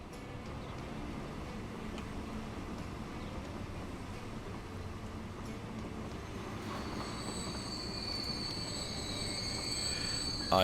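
A train in the Transport Fever 2 game rolls past with steady rumbling wheels and a rising squeal of metal wheels in the second half, growing slightly louder toward the end, with no voices.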